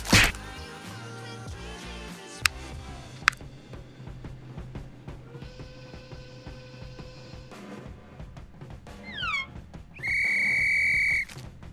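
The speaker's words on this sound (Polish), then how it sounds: "nowego opiekuna z bardzo irytującym gwizdkiem" Shrill whistle blasts ring out amid scattered snaps and cracks, with a short rising trill and a final long, loud sustained whistle.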